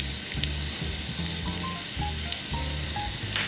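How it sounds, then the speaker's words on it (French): Onions sautéing with cumin in olive oil in a pan, a steady close sizzle and crackle with occasional stirring scrapes, no voices. "Maintenant, je vais ajouter les oignons et on va les faire revenir."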